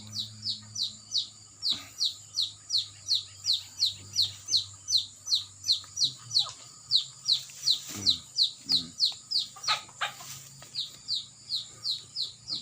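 Chickens being fed in a quiet mountain setting, with a rapid, regular series of high chirping calls repeating steadily throughout and a few louder squawks midway.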